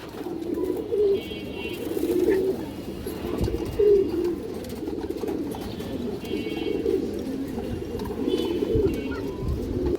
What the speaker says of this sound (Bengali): অনেক সুন্দর কবুতর দর্শক এগুলো মূলত সারাসারি লাইনের কবুতর